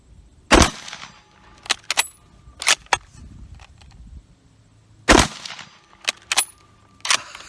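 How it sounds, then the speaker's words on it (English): A 1917 Eddystone rifle fired at an outdoor range, sharp loud cracks rising out of quiet at irregular intervals, with smaller clicks and metallic rattles in between. "I am really excited to shoot this rifle"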